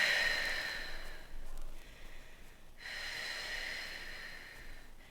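Deep, forceful exhale through the nose and mouth during a Pilates exercise with a small ball, a couple of close, breathy rushes of air with a pause between them, fairly quiet and with no talk.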